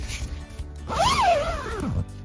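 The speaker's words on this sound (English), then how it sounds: "zip that up, and your tent is set up." The zipper on a Drifta Wild Land rooftop tent being pulled shut in one smooth, rising and falling zip lasting about a second, close and clear after a few soft fabric rustles.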